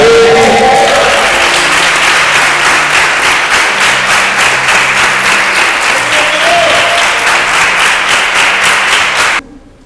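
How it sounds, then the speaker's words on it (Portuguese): Church congregation breaks into loud, sustained applause during a service, many hands clapping in a thick, even wash with music underneath, lasting nearly ten seconds before cutting off abruptly. "dá um aplauso a Ele"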